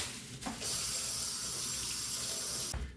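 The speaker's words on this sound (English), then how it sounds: "So rinse your knife off after you're done." A knife being rinsed under a running kitchen tap, the water gushing loud and steady for about two seconds after a brief start, then cutting off abruptly.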